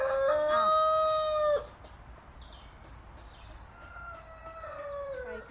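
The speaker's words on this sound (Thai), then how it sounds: "เนี่ยจ้ะไก่ตัวนี้น่ารักไหมคะไก่" A rooster at a Thai temple in Belgium crows once, loud and close, the long call breaking off sharply, followed by quieter outdoor background with faint bird chirps.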